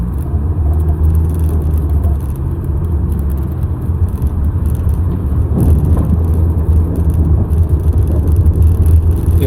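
A car on snow tires drifting across snow, its engine giving a loud, steady low rumble and whir that swells slightly midway, with no talking.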